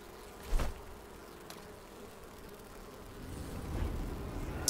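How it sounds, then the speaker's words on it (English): Buzzing of bees in the survival video game Enshrouded, a steady faint drone that swells slightly toward the end with a brief louder thump near the start. "Why do those bees sound like they're getting closer?"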